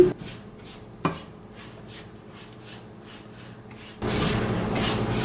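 Semolina being stirred and dry-roasted in a pan for rava kesari, soft rhythmic scraping strokes with two sharp knocks early on, then a louder, denser gritty rasp in the last second; no talking.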